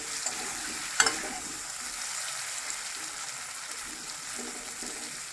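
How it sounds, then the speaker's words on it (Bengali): New potatoes frying in a pan give a steady soft sizzle, with one sharp clink of a utensil early on and faint scraping from occasional stirring; moderately quiet and close, no voices. "নতুন আলু একটু লাল লাল করে ভেজে নেবো আমি"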